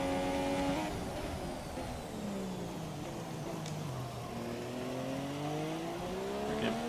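An F1 car drifts through a corner on a wet track in the F1 2017 video game, its engine whining steadily and swooping down, then climbing again as it accelerates out, with faint tire noise underneath.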